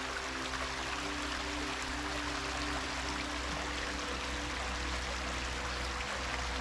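The small stream called Le Cazeret runs with a steady, dense wash of flowing water, constant and unbroken throughout, with no voices.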